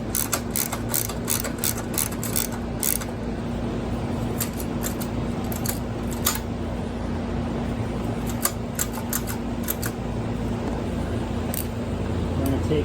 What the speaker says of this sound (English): So we're going to unbolt this.